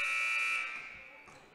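A basketball game's horn sounds at the end of the first half in a boys high school matchup, a loud steady electronic buzz that holds for about half a second before fading into arena noise.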